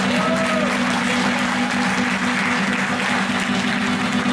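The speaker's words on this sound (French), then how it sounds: "je voudrais que vous vous applaudissiez pour cette femme-là" A crowd at a commemorative ceremony honouring Chadian soldiers' contribution to the liberation applauds a woman, producing loud, dense clapping that runs evenly throughout with a faint hum beneath it.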